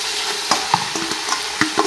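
Vermicelli and vegetables are stirred in a hot pan, with close, rhythmic scraping strokes over a light sizzle, about one stroke every quarter second, loud and without voices.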